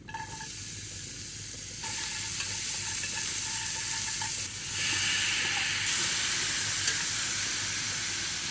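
Shrimp deep-frying in a pan of hot oil while camping in a car, a loud steady sizzle and hiss that swells in bursts, close and alone with no voices.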